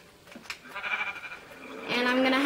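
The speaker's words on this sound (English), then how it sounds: "Sheep, go." Sheep bleat in the Minecraft video game, a couple of short wavering calls, the second one longer and louder, with no talk over them.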